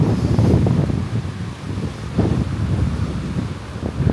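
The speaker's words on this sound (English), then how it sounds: "that wind is picked up again" Blustery wind buffeting a microphone on a busy beach in a quiet Vietnamese town, a loud, rough rumble that surges and eases in uneven gusts with no voices.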